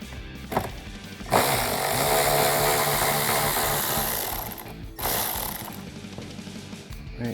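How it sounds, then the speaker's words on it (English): A power tool drives out T30 Torx fender flare hardware on a Jeep Wrangler JL, a loud sustained whirring burst of about four seconds, then a shorter second run, close up with no talking. "we're gonna start right over here with our 8mm T25 and T30 sockets, removing this hardware all along here"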